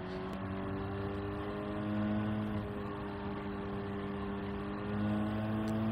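A race car engine in Gran Turismo 7 drones steadily as it drops down to third gear, its tone shifting slightly under braking, heard fairly close and alone.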